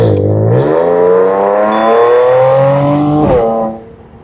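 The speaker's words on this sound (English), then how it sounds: "Like now, put a foot down, the car responds, which is great." Audi S4 accelerating hard under full throttle, engine note rising steadily through the revs, loud and close, then a quick upshift and the pitch climbing again before easing off.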